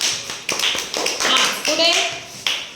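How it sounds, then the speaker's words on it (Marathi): Schoolchildren clap hands in a classroom, a patter of quick overlapping claps in short bursts, with voices talking over them. "टाळ्या वाजवा"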